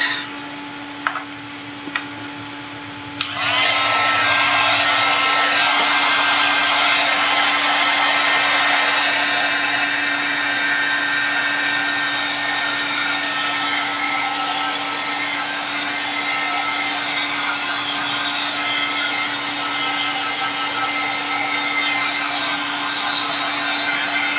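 A hair dryer blows over a watercolor napkin art journal page, switching on after a few soft clicks and then roaring steadily and loudly for the rest of the time, with a constant motor hum beneath.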